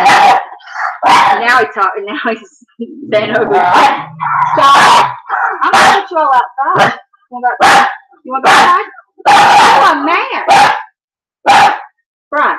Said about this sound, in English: I apologize for the barking.